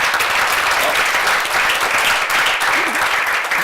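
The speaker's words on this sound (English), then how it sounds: "I appreciate that applause" An audience at a CEO panel forum applauds in a dense, sustained wash of clapping that holds steady from start to end, with no clear voices above it.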